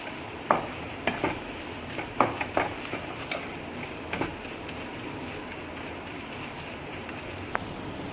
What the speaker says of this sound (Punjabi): ਬੇਸਨ ਤੇ ਲਸਣ ਅਦਰਕ ਇਹਨਾਂ ਨੂੰ ਹੁਣ ਆਪਾਂ ਪਿਆਜ਼ਾਂ ਦੇ ਨਾਲ ਆਪਾਂ ਭੁੰਨ ਲਵਾਂਗੇ ਚੰਗੀ ਤਰ੍ਹਾਂ